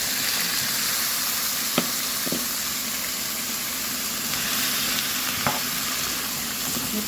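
Zucchini and meatballs sizzle loudly and steadily in a hot pan, with a few soft scrapes and knocks as the mixture is stirred.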